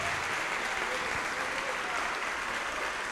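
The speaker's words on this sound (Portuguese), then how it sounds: "E vamos aplaudir ao Senhor Jesus por cada vida que está chegando." A church congregation applauds steadily and continuously during a worship service, a dense wash of many hands clapping with no pauses, heard at moderate distance.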